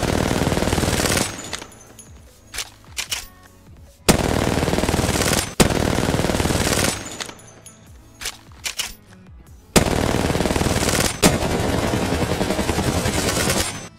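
Automatic weapon fire in Apex Legends, three long sustained bursts of rapid loud shots with short quiet gaps between them, close and dominant.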